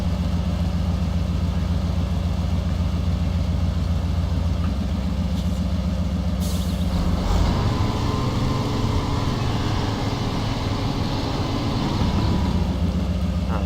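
A truck engine drones steadily over rough terrain in Spintires, with a rumbling gear-grinding shift partway through before the engine note turns rougher and busier.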